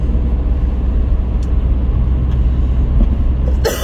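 A car drives along with a constant, loud low road-and-engine rumble heard from inside the cabin, ending in a sharp click.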